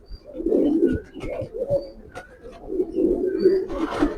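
A racing pigeon coos repeatedly up close, a series of low throaty rolling calls with brief pauses and a faint chirp near the end.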